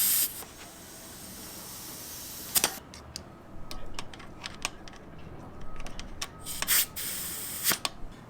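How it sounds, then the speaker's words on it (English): A bicycle tire is pumped up with air through a Schrader valve: a soft, steady hiss, broken by short sharp bursts of air and small clicks, quiet and close, with no talking. "Then we're gonna fill it back up with air."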